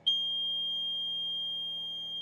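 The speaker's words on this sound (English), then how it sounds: "this lights up and that alarm goes off when the alarm triggers" A loud, piercing electronic septic pump tank alarm sounds continuously at a single high pitch, steady and unbroken, with no voices.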